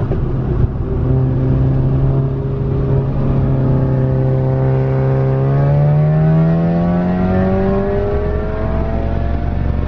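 A car engine revs hard through a full-throttle pull, its droning tone climbing steadily in pitch and staying loud and close throughout with no talking.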